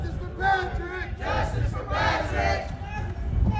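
A rally crowd at the Michigan State Capitol cheers and shouts in rising bursts, with whoops and voices swelling over a rumbling, continuous babble of the gathered people.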